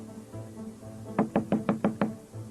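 Six firm knocks thump on a door in quick, even succession, loud and close, against a quiet low background with no talking.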